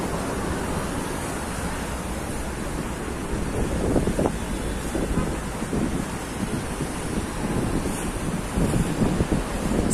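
Sea waves and gusty wind along the Alexandria seafront at Sidi Gaber after a storm, a broad rumbling roar of surf with wind buffeting the microphone, swelling and easing in irregular surges, no voices.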